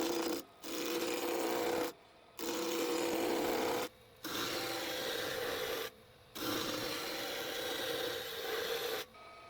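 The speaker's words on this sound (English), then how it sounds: "First, I shape the rough block of wood into a simple cylinder." Rough wood block turned on a lathe into a cylinder, with a steady scraping, rasping cut in four long bursts separated by brief pauses, close and fairly loud.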